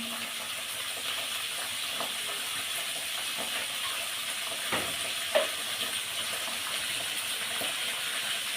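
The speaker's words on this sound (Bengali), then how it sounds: "এবার আমি মশলাটা সুন্দর করে কষিয়ে নেব" A spice masala of turmeric, chilli powder and salt for a young jackfruit dish sizzles steadily while frying in a pan, with occasional stirring scrapes and soft clinks.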